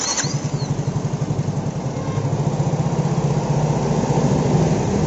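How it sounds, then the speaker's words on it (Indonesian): Yamaha Mio J scooter engine that tends to stall, starting with a brief whir and then idling close by in an even, rapid putter that grows slightly louder over several seconds, with no talk. "Ini nyala ya motornya ya."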